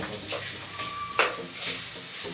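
Chopped tomatoes frying in a pan for mushroom pulav, a soft sizzle under a few scrapes and clinks of a spoon against the pan, with one sharper metallic tap.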